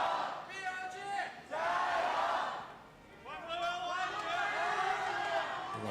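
A crowd at an esports venue roars and cheers during an LPL League of Legends match between RNG and BLG, swelling in loud waves with whoops and shouts, briefly dipping before surging again.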